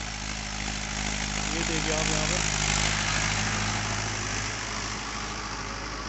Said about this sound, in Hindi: ये देख सकते हैं दोस्तों आप महिंद्रा 575 DI